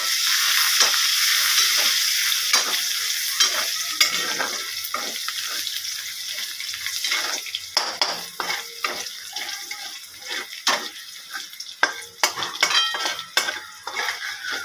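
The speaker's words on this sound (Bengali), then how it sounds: "শুকনো লঙ্কা ভাজা হয়ে গেছে, কালো জিরা দিয়ে দিলাম, এবার রসুনগুলো দিয়ে দিলাম।" Garlic, black cumin and dried chillies frying in a pan as greens are cooked, a bright continuous sizzle that fades into intermittent scraping and clinks of stirring, with no voices.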